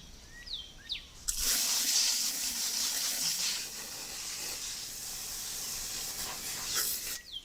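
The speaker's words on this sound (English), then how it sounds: "I carefully wash all the vegetables and greens to get rid of dust and dirt." Tap water runs steadily into a sink while vegetables and greens are washed on a remote farm, a close, continuous hissing rush lasting several seconds, with faint birdsong before it starts and after it stops.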